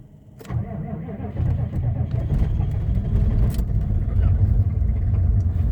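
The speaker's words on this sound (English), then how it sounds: "All right, let's see how she starts up today." A 1994 Chevy truck engine cranks briefly, catches and settles into a rough, rumbling idle close by, continuing steadily to the end with no talk.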